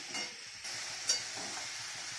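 Young jackfruit curry with meat cooks in a pan, giving a steady soft sizzle with light scraping from stirring, close and continuous for a couple of seconds.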